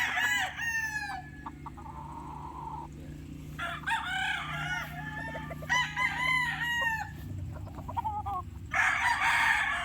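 Black Boston Dome gamefowl stags crow and cluck nearby, several overlapping crows and calls in bursts across the clip, fairly loud against a low background hum.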